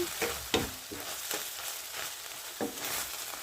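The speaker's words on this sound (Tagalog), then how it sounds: "Haluin lang natin." A tuna and egg mixture for tortang tuna is stirred in a bowl, giving several brief scraping clicks at an uneven pace over a soft steady hiss, close by and fairly quiet.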